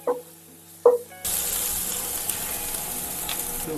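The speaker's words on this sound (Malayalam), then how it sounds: "ഒരു ടേബിൾ സ്പൂൺ ഇഞ്ചി പച്ച വെളുത്തുള്ളി പേസ്റ്റ് ഞാൻ ഇട്ട് കൊടുക്കുന്നത് ഒന്ന് വഴറ്റി കൊടുക്കാം" Ginger and garlic paste hitting hot oil in a pan, a sudden loud sizzle bursting in after a few soft clinks and then holding steady and bright to the end.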